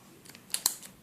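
Scissors cut crochet yarn after a finished seam, two quick close snips in quick succession in a quiet room.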